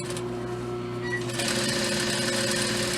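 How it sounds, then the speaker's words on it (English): A sewing machine top stitching a fabric skirt, a continuous close mechanical whir that picks up speed partway through and runs steadily. "we're going to come back and top stitch all the way down on the top part of our fabric"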